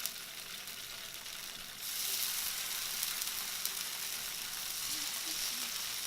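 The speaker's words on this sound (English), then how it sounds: "now we're gonna cook the tofu slices. So I literally put some oil on the pan" Tofu slices frying in oil in a pan for a vegan breakfast, a steady crackling sizzle that jumps louder about two seconds in and keeps hissing evenly, with faint pops and no talking.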